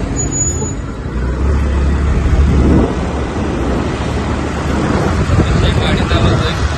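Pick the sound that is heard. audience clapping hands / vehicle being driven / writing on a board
vehicle being driven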